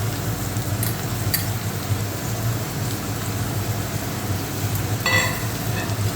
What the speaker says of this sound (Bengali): আমি লাল লাল করে ভেজে নেব।